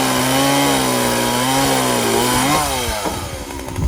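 A tired chainsaw cuts wood for a DIY wood shed at an off-grid homestead in remote interior Alaska, its engine whining loud and close at a steady pitch, then bogging down and sputtering as the cut ends.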